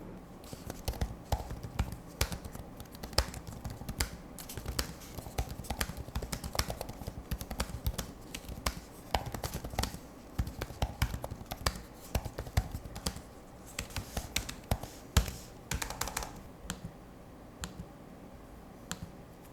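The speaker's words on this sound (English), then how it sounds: "this is a sound test quickly of the keyboard feedback and the trackpad click noises as well" Typing on an Asus laptop keyboard mixed with trackpad clicks, close and crisp, a busy irregular run of key taps with sharper clicks throughout, without speech.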